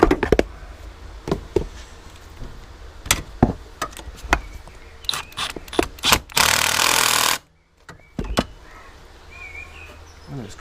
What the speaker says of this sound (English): If you're in the market for a small impact, these are very good. It's the brushless fuel generation 2 Milwaukee.